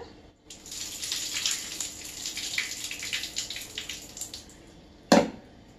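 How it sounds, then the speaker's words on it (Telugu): Water pours steadily into a pot of basmati rice being readied for pulao with bay leaf, cardamom and cinnamon, a broad continuous splashing stream lasting several seconds, ending with a brief knock of the vessel. "డబ్బాకి డబ్బన్నర వాటర్ వేసుకోవాలి"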